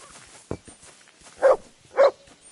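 A dog in Kingdom Come Deliverance II gives two short, clear barks close by, evenly spaced about half a second apart, following a faint thump in an otherwise quiet setting.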